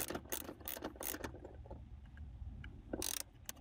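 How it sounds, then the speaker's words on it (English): A bolt is screwed down onto a ring terminal during a vehicle device installation, giving a run of close, sharp ratcheting clicks that fade into quieter mechanical fiddling before a final burst of clicks. "bolt, and then screw in and make sure it's tight"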